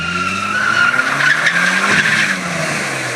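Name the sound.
rally car accelerating at full throttle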